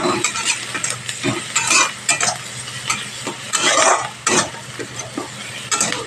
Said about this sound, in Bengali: দিয়ে ভালো করে পেঁয়াজের লঙ্কার সাথে ফ্রাই করে নেবো